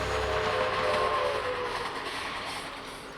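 A train rumbles past with a continuous heavy roar and a faint horn tone early on, gradually fading.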